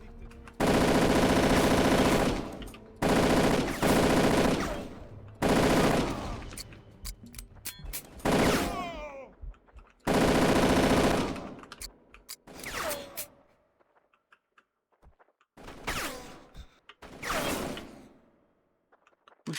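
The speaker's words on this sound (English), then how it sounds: "Who's shooting at me?" Machine gun fire in the video game Darkest of Days, loud repeated bursts of rapid automatic shots with short gaps between them, some shorter volleys trailing off, no talking.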